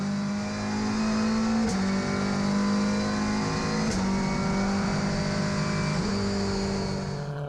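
A race car engine roars loudly and steadily, its pitch dipping at gear changes as it speeds downhill past, no talking; a GTC race car at Kyalami Grand Prix Circuit.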